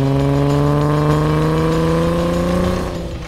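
A lifted 2017 Jeep Wrangler JK on 37-inch tires with a Teraflex 3-inch lift and Magnaflow exhaust drives fast off-road. Its engine drones loudly and steadily up close, pitch rising slightly before easing off near the end.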